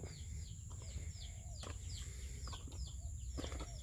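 Baby chicks cheep in repeated short high peeps on a farm in the morning, fairly close, with occasional clucks and wing flaps around them.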